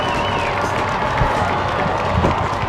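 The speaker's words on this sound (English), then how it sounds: "the crowd is going wild right now" Spectators at a high school football game between Mountain Vista and Thunder Ridge roar and cheer after a touchdown is called back, a loud, dense crowd noise with shouts and clapping rising and falling throughout.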